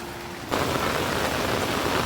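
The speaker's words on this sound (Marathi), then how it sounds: "काहीतरीच पाऊस पडतोय" Heavy monsoon rain in Konkan starts abruptly and pours on as a loud, dense, unbroken hiss, close and steady, with no voices.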